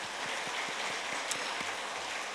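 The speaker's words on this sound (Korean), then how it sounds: "우리 이분들을 위해서 박수 쳐주세요" Faint, distant clapping from a church congregation during a family-themed Parents' Day sermon. Soft, scattered claps sit under a hissy room tone for a couple of seconds.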